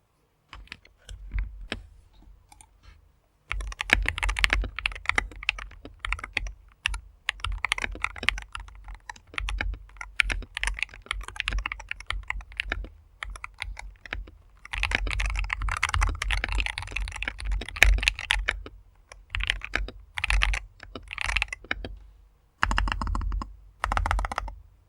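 Mechanical keyboard being typed on, a Madlions MAD60/68HE Hall-effect board with a deep, thocky tone, keystrokes rattling in dense bursts with a few short pauses, close and alone with no voices.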